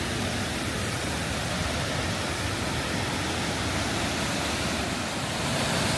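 Steady roar of a waterfall in Michigan, a dense, even rushing wash of falling water heard close and loud without pause, with no voices over it.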